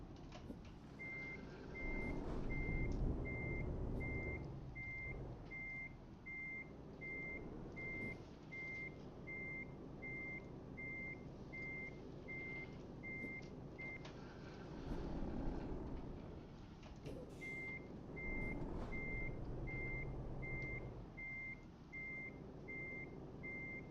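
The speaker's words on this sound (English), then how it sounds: "get backed up to our trailer and everything here" Steady electronic reversing beeps from a truck backing up to a trailer in the Euro Truck Simulator video game, a regular pulsing tone over engine rumble that pauses midway and then resumes.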